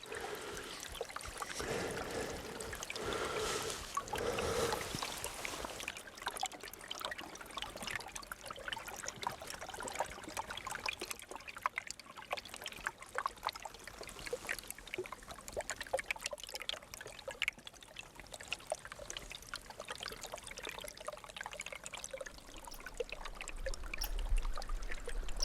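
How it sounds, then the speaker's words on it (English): Meltwater trickling down a small ice formation on a winter mountain trail in Maine: a soft, continuous dribble close by, steady with light splashy detail, heard alone for the whole stretch. "this little ice formation with the water going down is pretty cool"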